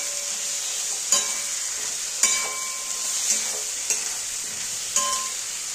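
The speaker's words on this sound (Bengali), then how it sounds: "দেখো এবারে ভালো করে কষিয়ে নিচ্ছি একটু।" Vegetables coated in Kashmiri chilli powder sauté in a pan for fish roe curry, with a steady sizzle broken by about five sharp scraping knocks of a spoon stirring.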